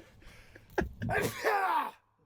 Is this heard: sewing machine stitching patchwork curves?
no